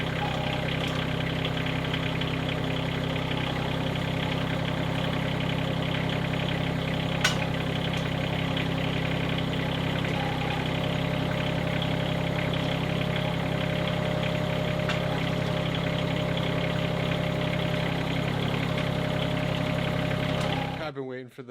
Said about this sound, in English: just turn the tractor on, operate it, make sure we have our clearances everywhere